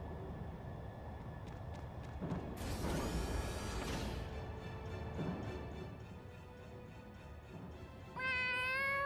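A cat meows in the Tales of Xillia 2 video game, a clear rising harmonic cry near the end, following bursts of battle effects, clanks and a swooshing crash.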